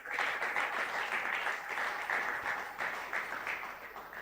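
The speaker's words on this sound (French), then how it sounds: "Est-ce que tu peux acclamer très fort pour la gloire de Dieu?" A church congregation at a Sunday praise service claps loudly and continuously, a thick, even roar of many hands heard from the room with no distinct talking over it.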